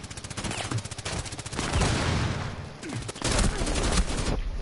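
Video game gunfire in rapid bursts, mixing fast automatic volleys with single shots, loud and close, with short gaps between bursts.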